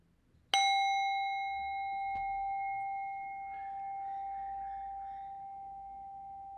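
A single clear strike of a mindfulness bell at a Buddhist prayer vigil for Oak Flat rings out with a pure, sustained tone that lingers for several seconds and decays slowly over a quiet background.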